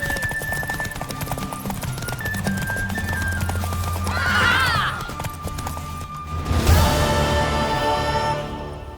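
A horse in The Witcher 3 video game neighs and its hooves clip-clop steadily over game music, with a loud whinny standing out near the middle and a louder burst of movement toward the end.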